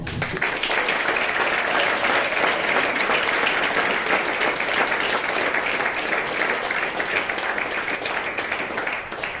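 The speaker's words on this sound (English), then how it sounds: "Please give a warm welcome of applause to Buck Angel" A seated audience at an evening talk gives steady, full applause to welcome a speaker, the clapping dense and unbroken from start to finish.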